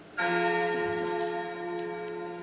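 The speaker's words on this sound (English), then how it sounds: "The bell invites me." A single deep bell struck once near the start, its rich tone ringing on and slowly fading, alone and fairly loud, during a stage performance of Macbeth.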